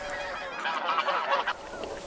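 Wild bean geese in Japan honk in a dense overlapping chorus from a feeding flock near reeds, steady and moderately close with no talking.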